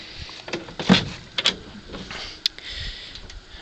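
The door of a 1963 Chevrolet Impala SS opens with a few close, quiet mechanical clicks and a latch clunk, then a soft thud, with no talking.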